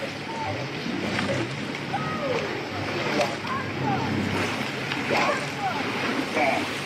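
Rowing boat racing at Henley Royal Regatta, with a steady wash of water and wind, rhythmic splashes of oars at the catch and a coxswain's voice calling over the hull noise.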